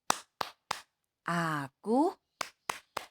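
Children's rhythmic classroom clap chant for a religious lesson, sharp separate claps in short groups of three around brief vocal calls, close and clear against silence.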